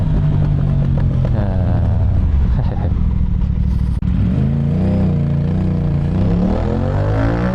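An Aprilia RS457 sport bike fitted with an aftermarket Akrapovic exhaust revs close by, its engine note rising and falling with a brief sharp pop partway through, loud and continuous.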